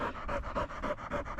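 A dog pants steadily during an obedience training session, quick rhythmic breaths repeating close to the microphone with no talking over them.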